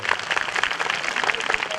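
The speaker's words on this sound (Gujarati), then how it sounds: "ખરેખર તાળીઓ તો બેનો ધીમી પડે છે" Audience applause at a Patel community opening event, honouring a family: dense, continuous clapping from a crowd, close and fairly loud, with no clear talking over it.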